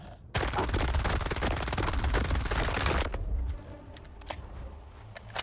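Rapid automatic rifle fire in the video game STALKER 2, a loud continuous stream of shots for about three seconds, then a fading tail with a few scattered clicks and faint sounds.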